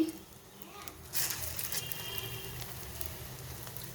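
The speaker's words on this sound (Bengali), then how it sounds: "এই যে তেলটা গরম হয়ে গেছে এখন আমি একে একে একটা একটা করে দিয়ে দেব" Shrimp and masoor lentil fritters go one by one into hot oil and set off a soft sizzle that swells suddenly and then crackles steadily. The sound is quiet and close, with faint talk around it.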